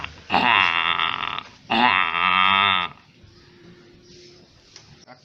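A person at a talent show imitates a male water buffalo, making two long, deep, droning bellows in a row, loud and close, followed by a quieter tail.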